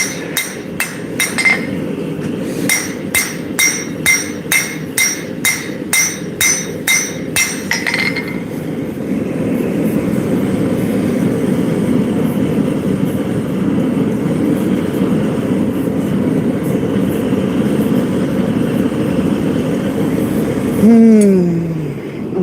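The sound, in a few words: hammer forging a steel blade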